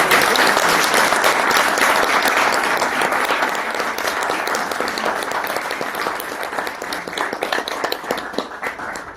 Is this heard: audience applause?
yes